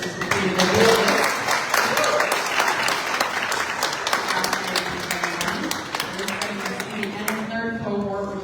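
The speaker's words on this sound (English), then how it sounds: "give a warm round of applause to all of the cohort companies that just completed their business" An audience at a business pitch competition applauds the cohort companies with sustained, dense clapping that swells early and gradually thins toward the end, with some crowd chatter mixed in.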